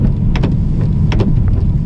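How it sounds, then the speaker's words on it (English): Heavy rain from a storm front passing through North Texas roars steadily and loudly, with a dense, constant wash and a few brighter splatters on top, no voices. "when it does come, it's sometimes pretty fierce. But I think this is just a front coming through, so hopefully this line of rain won't last that long."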